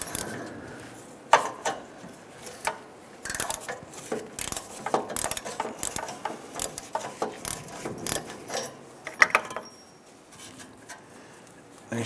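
Ratchet on a split O2 sensor socket working an upstream oxygen sensor loose on a 1997-2006 Jeep Wrangler, irregular close clicks and metallic clunks with scattered taps and pauses.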